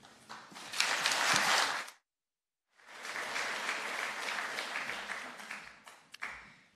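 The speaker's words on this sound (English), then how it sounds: "And the early applause as well, it's always very welcome." A lecture audience applauds loudly in a dense wash of clapping, breaks off into a short silence, then claps again at length before it thins out.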